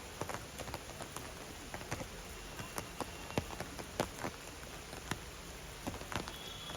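Steady rain patters at a zoo in Darjeeling, a dense soft hiss with scattered sharper drips landing close by, continuous and fairly quiet with no voices.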